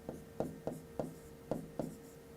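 Marker or chalk strokes on a board in a physics lesson, about seven short scratchy taps spaced in an uneven rhythm, close and fairly quiet.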